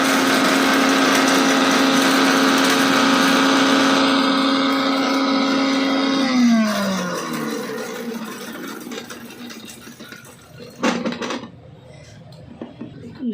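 A mixer grinder whirs loudly as it grinds dry-roasted garam masala of cardamom, cinnamon, cloves and bay leaf, a steady high motor whine that winds down midway, followed by a few clattering knocks from the jar.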